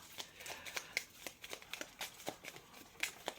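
Lenormand oracle cards being shuffled by hand in quick, soft riffling bursts, close up and faint in an otherwise quiet room, with no talking.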